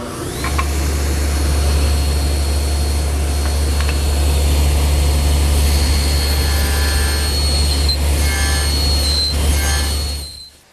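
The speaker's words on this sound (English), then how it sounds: "that material is best removed using the table saw" Table saw running loud and close while nibbling away wood to form a haunched tenon, a heavy steady motor roar with high whining cut tones layered on top, winding down at the end.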